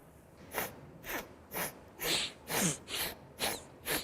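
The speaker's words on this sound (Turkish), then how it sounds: "Ard arda seri bir şekilde nefes alıp vereceğiz." Rapid nasal breathing exercise: about eight forceful, evenly spaced sniffs and exhales through the nose in quick succession, close and clear, with no talking.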